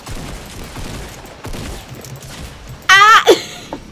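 Scattered gunfire in Fortnite, several soft distant shots followed by a short loud burst, with a brief voiced cry near the end.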